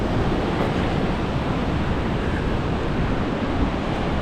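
Class 5 rapids at Johnston Canyon falls in Banff National Park roar in a steady, dense wash of rushing water with no pauses or talk.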